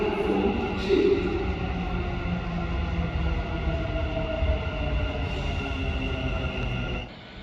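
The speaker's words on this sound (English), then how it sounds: "The train to Expo 2020 will arrive at platform 2." A Dubai Metro Red Line train pulls into an underground station platform, its steady rumble and rail hum filling the scene, with a rising squeal briefly up front before the noise drops away as it comes to a stop.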